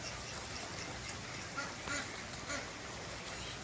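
A goose at a backyard pond honking in wet weather, its calls faint and intermittent against a steady wash of rain or background noise.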